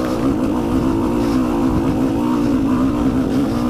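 KTM 150 EXC TPI 2020 two-stroke dirt bike engine pulling at low rpm off-road, a continuous close buzzing drone with a slight wavering rhythm and no voices.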